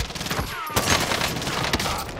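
Rapid bursts of gunfire from a video game shooter crackle continuously, loud and close, with dense overlapping shots and no pause.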